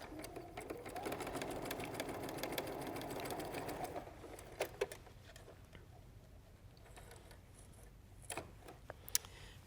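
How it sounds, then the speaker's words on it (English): A sewing machine stitches a quarter-inch quilting seam in a steady fast whirr for a few seconds, then stops, followed by faint clicks and handling noises in a quiet room. "come here to my sewing machine"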